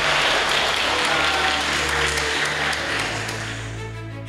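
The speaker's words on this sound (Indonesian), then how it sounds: "tepuk tangan sekalian untuk pemateri kita pada hari ini." Audience applause for the speakers at a talk show and try-out event for service-school and military academy entrance tests in Palembang, a loud sustained crowd of clapping that holds steady and then tapers slightly toward the end.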